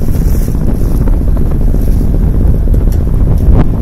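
An Albin Vega sailboat under sail toward Voerså, with loud, steady wind buffeting the microphone and a low rushing roar of water along the hull throughout.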